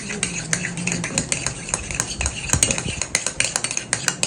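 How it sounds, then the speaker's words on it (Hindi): Transparent soap base being stirred and mixed in a pot, a spoon scraping and clinking steadily against the metal in a busy, repeated rhythm, close and fairly loud with no talking. "अच्छी तरह से इसको मिक्स करना है"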